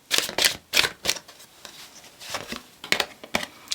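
Tarot cards are shuffled by hand up close, a run of quick crisp riffling bursts with short pauses between them and no one speaking.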